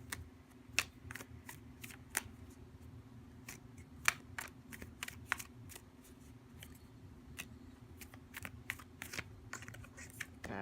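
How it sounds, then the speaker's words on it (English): Tarot cards being shuffled by hand, a steady run of sharp, crisp clicks and flicks at irregular intervals over a low constant hum, fairly quiet and close, with no talking. "So maybe I did shuffle for a few minutes, or maybe like a minute and a half."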